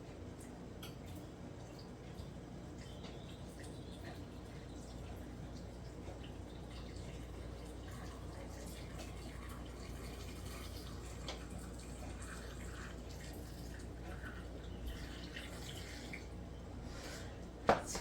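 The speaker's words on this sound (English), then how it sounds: "I'm just gonna slowly pour it in." Liquid is poured slowly into jars of green beans for canning: a faint, steady trickle runs for a long stretch at close range, ending with a brief sharp clink.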